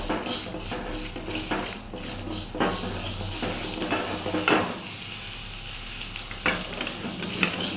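Chillies and spices roasting in a pan for puliyodarai, golden and unburnt: a steady sizzle and frying hiss with stirring scrapes and occasional clinks of utensil on metal, close and continuous.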